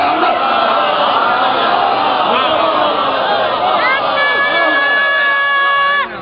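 A large crowd at a Shia religious majlis chants slogans loudly in unison, a sustained roar of voices with drawn-out sung tones near the end.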